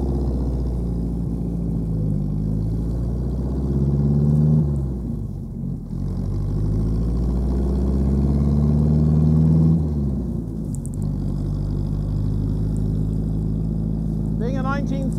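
A Ford Model T engine runs steadily while the car is driven, a loud, low, even rumble with slight rises and dips in pitch as the revs change, and a squeal near the end.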